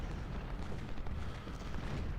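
Artillery fire in the Civil War strategy game Ultimate General: Civil War, a dense continuous rumble of distant cannon booms with no distinct single shots.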